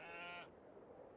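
A single sheep bleats in the Farming Simulator video game, one clear wavering cry lasting under half a second, then quiet background ambience.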